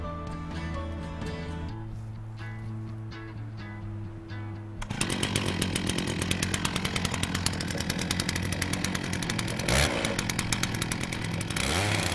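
A chainsaw on a Timberjig portable sawmill idles with a low drone, then revs hard into a log for a sustained, loud, buzzing cut that runs to the end.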